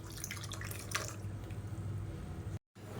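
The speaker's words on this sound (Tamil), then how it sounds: "இப்போ பாருங்கள், மிக்ஸி அலசிட்டு அந்த தண்ணியை சேர்த்துக்கலாம்." Rinse water from a mixer jar trickling and dripping into a bowl of peanut chutney, a steady soft liquid patter with a faint drip, close and alone, cutting out briefly near the end.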